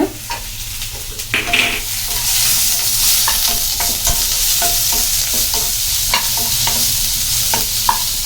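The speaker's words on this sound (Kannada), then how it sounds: "ಇವಾಗ ನಾವು ಬೆಳ್ಳುಳ್ಳಿ ಮತ್ತು ಶುಂಠಿಯನ್ನು ಹಾಕ್ಕೊಳ್ಳೋಣ" Garlic and ginger fry in oil alongside onions in a kadai pan for kadai paneer, a loud close sizzle with repeated sharp spatula scrapes and taps throughout, nobody talking.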